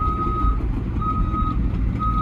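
A Cat 315 excavator, just started at a port, sounds its warning alarm as loud, evenly spaced long beeps over a heavy, low diesel engine rumble, with no talking.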